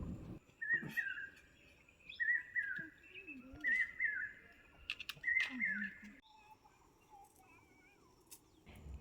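Small birds chirp and trill around a Himalayan village, short bright calls repeating in bursts over a soft ambient background, with a few quieter tones between them.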